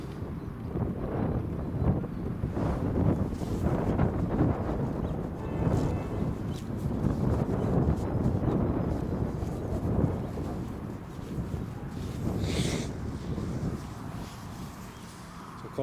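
Strong gusty wind from Storm Kathleen at Newcastle International Airport buffets the microphone in a constant low rumble, swelling and easing in waves, with a brief brighter hiss near the end.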